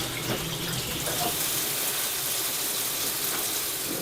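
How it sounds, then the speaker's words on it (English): Water streams steadily out of leaking sink plumbing, a continuous close hissing gush that holds at an even level without voices. "Decent sized leak."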